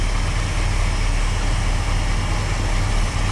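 A car engine idles steadily with its alternator taken off, giving a continuous low rumble that holds even and close throughout, with no talk over it.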